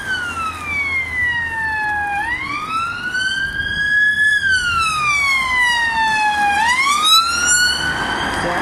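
Ambulance siren passing in the street, a loud wailing tone that rises and falls in long sweeps over steady traffic noise, heard alone without talk.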